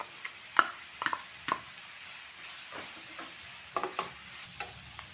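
Crushed garlic and ginger frying in a pan while making egg curry, a soft steady sizzle punctuated by several sharp clinks and scrapes of a stirring spoon, close and quiet with no talk.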